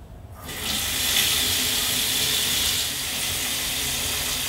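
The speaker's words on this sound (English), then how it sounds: "We're going to go ahead and turn on the water" Water pours steadily from a bathroom tap, a continuous close hiss that starts abruptly after a brief quiet moment and holds level throughout.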